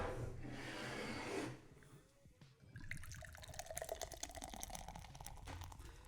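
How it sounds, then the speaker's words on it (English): Beer is poured at a slant into fresh glasses. A rushing splash and fizz fills the first second and a half, then gurgling and crackling foam, with clinks and rubbing as the pouring continues. "we both did the slanted pour"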